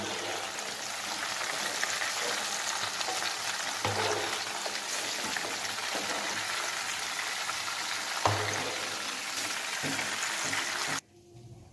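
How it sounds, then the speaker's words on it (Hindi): Chicken gizzards half-fried and turned in a pan give a loud, continuous hissing sizzle with small crackles throughout, then cut off abruptly near the end, with no voices. "मैंने हाफ फ्राई करके मैंने पलटा दिए पोटल को।"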